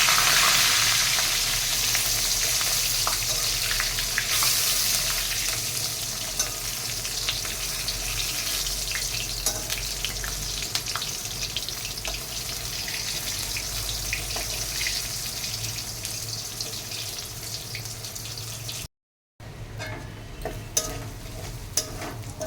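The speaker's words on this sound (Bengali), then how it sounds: "এইখানে ভাজা হচ্ছে বেগুন ভাজা" Eggplant slices frying in a pan of oil give a steady, dense sizzle that runs continuously at close range, broken by a short gap near the end, with no talking.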